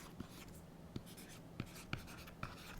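A stylus scratches across an e-ink tablet screen while notes are written, with soft continuous scratching broken by several distinct taps and strokes at uneven intervals, close and fairly quiet.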